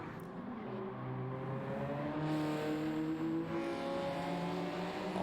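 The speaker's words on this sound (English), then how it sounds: "All those cars just sound beautiful, I will be honest with you." Race cars in Gran Turismo 7 lap Grand Valley South in a time attack, engines rising in pitch through the gears in a long sustained drone, moderately loud with no talk.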